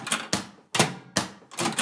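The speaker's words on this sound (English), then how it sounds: "There's something about the sound" Typewriter keys strike in a quick, uneven series of about five sharp, close clacks, each ringing briefly before the next, with no talking.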